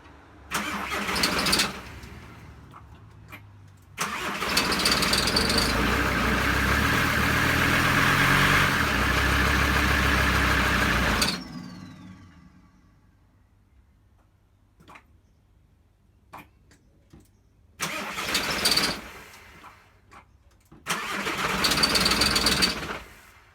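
A van engine that will not keep running cranks and catches, running roughly and loudly for several seconds before dying; after a quiet stretch with faint clicks it is cranked twice more in short rough bursts, with no talking.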